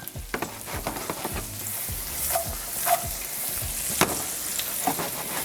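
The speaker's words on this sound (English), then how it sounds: "Get our asparagus going." Asparagus tips sauté in a hot pan with a steady, close sizzle and fry, broken by scraping stir strokes and light utensil knocks.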